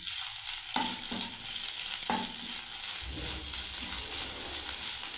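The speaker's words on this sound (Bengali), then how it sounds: "সমানেই নাড়তে হচ্ছে বন্ধুরা" Pointed gourd mash fries in a pan under constant stirring: a steady soft sizzle with a few distinct scrapes of the spoon, close by and without talk.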